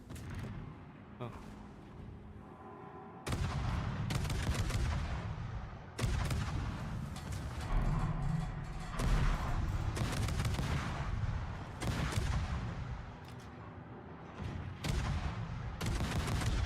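Naval gunfire from warships in the video game World of Warships, with heavy booming salvos and sustained rumbling blasts throughout, loud and dense, while someone talks over the battle.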